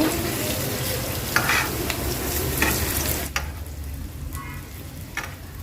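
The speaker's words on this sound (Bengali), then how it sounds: "এখন হচ্ছে পকোড়াগুলো আমি একটু উল্টিয়ে দিব" Vegetable pakoras fry in hot oil, a strong close sizzle with scraping stirs as the fritters are turned; the bubbling drops to a quieter crackle partway through, with no talking.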